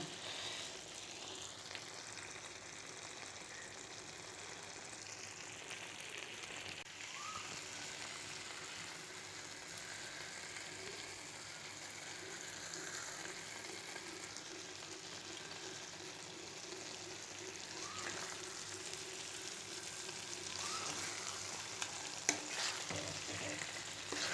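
Homemade spicy chicken curry fries in a pan while being stirred, giving a continuous close sizzle with soft scraping movements throughout and no talking.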